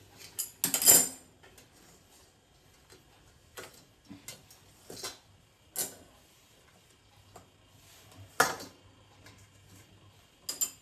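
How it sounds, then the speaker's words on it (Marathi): A metal steamer sieve comes out of a pot after the gas is turned off, giving scattered light clinks and taps of metal on metal at irregular intervals, some sharp and close, over a quiet kitchen. "आता गॅस बंद करते आणि चाळणी काढते"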